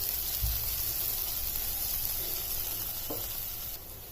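Green chillies stir-fried in a pan for a spicy chilli bhaji sizzle with a continuous, even hiss, punctuated by a couple of soft stirring knocks.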